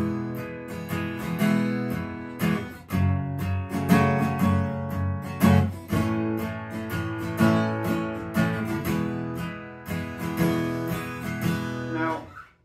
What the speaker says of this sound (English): So the strumming sounds like this